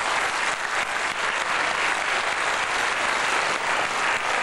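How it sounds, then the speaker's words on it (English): A lecture hall audience claps in a steady, full round of applause for John Lilly, a dense uninterrupted wash of hands lasting a few seconds with no talk over it. "applause to John Lilly"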